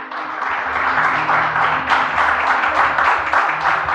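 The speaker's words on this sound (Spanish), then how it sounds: "Dale un fuerte aplauso al Señor." A church congregation claps warmly together, a dense, continuous applause that holds steady for several seconds with a faint murmur of voices underneath.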